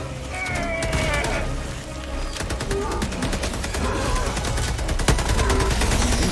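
Dense, continuous automatic gunfire from a Helldivers 2 firefight, with rapid close bursts and heavier shots layered over a loud, busy battle bed, and a voice faintly in the mix.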